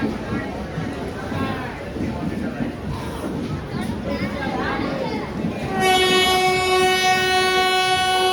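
Mantralayam Express passenger train at Kengeri station, its horn sounding a loud sustained blast near the end after steady rumbling and crowd chatter from passengers on the platform.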